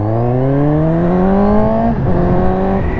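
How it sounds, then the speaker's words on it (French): Suzuki GSX-S 750 motorcycle with a Yoshimura exhaust, its engine note climbing steadily under acceleration, briefly dipping near two seconds, then holding a strong, close, continuous tone. "On a un pot Yoshimura qui chantonne plutôt pas mal"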